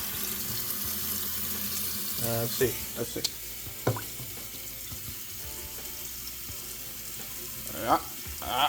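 Water from a kitchen tap runs steadily into a pot of rice being filled for cooking, a constant close hiss with a few clunks of the pot, while someone talks briefly.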